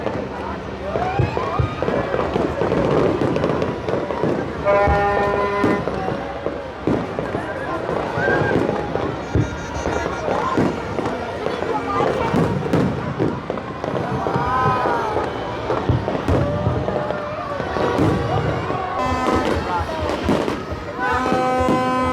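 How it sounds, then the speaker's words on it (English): New Year's Eve fireworks over the bay at SM by the Bay, with continuous popping and crackling bursts rising from a dense crowd murmuring and talking throughout. "Look at that firework."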